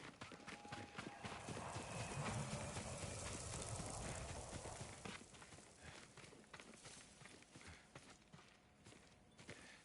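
Horse hooves clip-clop steadily in the video game Ghost of Tsushima, a rhythmic run of hoofbeats over ambient game sound that grows louder, then eases and thins out toward the end.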